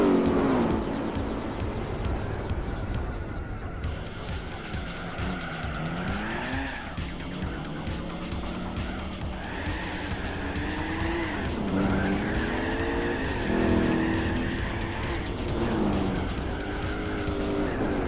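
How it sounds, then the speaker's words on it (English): A big-block Buick Special custom in Gran Turismo 4 spins and squeals its tires, a continuous loud engine roar with wavering, rising and falling tire screech throughout, no voices. "I'll just spin my tires all the way up to..."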